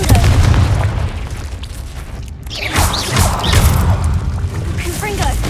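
A Confringo fire spell bursts in Hogwarts Legacy during a fight with poachers: a heavy, booming blast with crackling debris, a second impact following after a brief dip, all under dense game effects and a voice.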